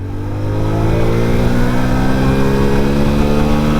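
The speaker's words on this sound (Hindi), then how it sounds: "अब फर्स्ट गियर चेंज करते हैं, second gear, third gear, fourth gear तक भगा के देखते हैं कहाँ तक जाती है।" A 2025 Hero HF Deluxe Pro motorcycle, an 8 PS commuter bike, accelerates up through its gears with a steady, loud engine drone that climbs slowly in pitch.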